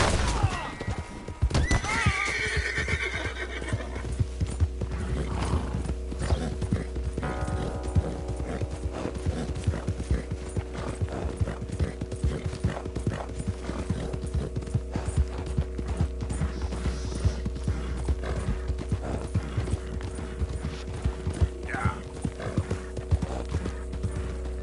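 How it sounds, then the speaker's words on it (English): Horse hooves clip-clop steadily while a horse whinnies loudly near the start, over a continuous low mechanical hum and faint ratcheting clicks, in the video game Red Dead Redemption 2. "Good-looking horse there."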